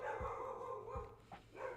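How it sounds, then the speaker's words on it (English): Pet dogs barking at people across the street, a few faint, distant barks spaced irregularly under a steady hum of game music. "And now my dogs are barking."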